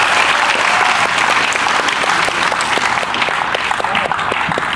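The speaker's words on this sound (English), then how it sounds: "let's have a round of applause for Mr. Jimmy Taylor" Loud, sustained applause from a conference audience at a motivational speaking event in Lagos, a thick continuous roar of clapping with sharper individual claps standing out near the listener.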